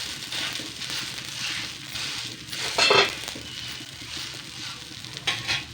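Green gram (pasipayaru) dosa sizzling steadily on a hot pan just after being flipped, a continuous close frying hiss with a few faint clinks of a utensil against the pan.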